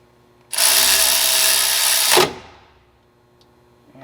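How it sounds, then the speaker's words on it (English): A small battery ratchet snugs down bolts on a TorqStorm supercharger during installation on a 4th-gen RAM truck, one loud close high-pitched whirring burst lasting under two seconds that stops sharply. "we're going to let little man snug those things down with the little battery ratchet here"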